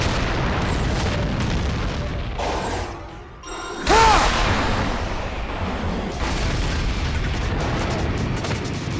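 Giant missile blasts in the Shadow Generations video game, heavy booming explosions over a dense roar, with a sudden drop and a loud burst midway, no talking.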